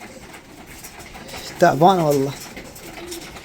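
A racing pigeon from a 600 km Kirkuk race gives one short, warbling coo near the microphone, with quiet talk before and after it.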